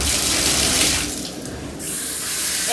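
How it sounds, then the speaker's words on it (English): Water runs steadily from a tap while hair is rinsed under it, a close, continuous splashing hiss that dips briefly midway and then carries on. "So let me rinse this out."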